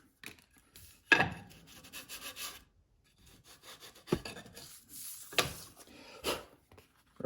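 Hand sanding a wooden logo inlay with 220 grit sandpaper gives several short, quiet scratchy rubbing strokes, spaced irregularly with soft pauses between them.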